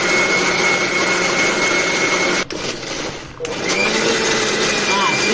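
Kitchen mixie grinder whirring loudly and steadily as it blends gobi pakodi batter, briefly dropping off for about a second before spinning back up, with a voice speaking over it.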